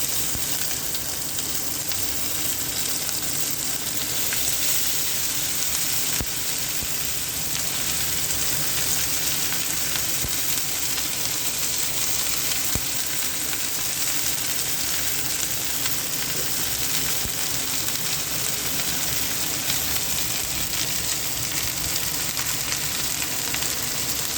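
Cut cabbage sizzles and crackles steadily in a hot pan, a continuous frying hiss with occasional faint stirring, no voices.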